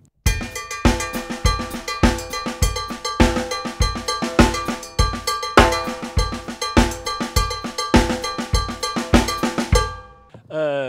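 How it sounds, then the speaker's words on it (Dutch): A cowbell rings out a steady paradiddle groove, its bright metallic strikes repeating in a tight, even pattern up close for about ten seconds before stopping. "Op de koebel klinkt die."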